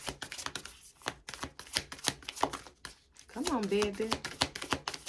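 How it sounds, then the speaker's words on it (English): An oracle card deck is shuffled by hand with rapid, crisp papery clicks and riffles close by, mixed with someone speaking over it. "Sometimes these are a little hard to shuffle."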